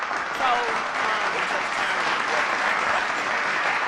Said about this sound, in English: I'm gonna clap for you because you're doing the work.